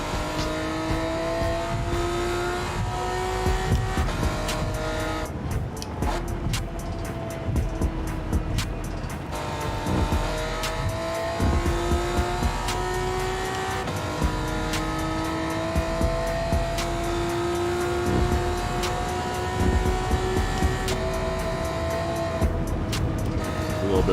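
Race car engine in Gran Turismo 7, a loud continuous engine note climbing and dropping through gear changes, with repeated revving pulls and lifts of the throttle and occasional tire squeal.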